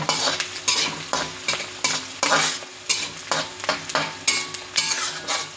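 Mashed garlic cloves fry in a pan while a utensil stirs them in steady, repeated scraping strokes over a constant sizzle, close and fairly loud, with no talking.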